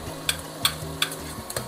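Onion and garlic sautéing in a pan, a soft continuous sizzle broken by a few sharp clinks of a utensil against the pan, with no voices.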